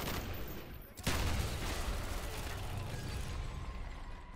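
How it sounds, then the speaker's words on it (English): Assault rifle fire in a first-person shooter video game: a sharp burst that breaks in suddenly, then a sustained rattle of rapid shots that stays fairly quiet and distant through the rest. "Alright, let's use an assault rifle."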